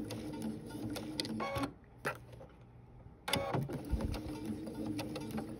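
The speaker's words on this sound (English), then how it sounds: "now I will do some back stitching to get back to the beginning" A sewing machine runs back stitches through quilt fabric, a fast close mechanical whir that stops briefly, gives a short burst, pauses again, then resumes its steady buzzing run.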